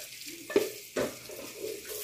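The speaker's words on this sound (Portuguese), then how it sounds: "como vocês estão vendo, olha, tá fritando os bacons." Bacon fries in a pan with a soft, steady sizzle, broken by a couple of sharp scraping knocks as it is stirred or turned.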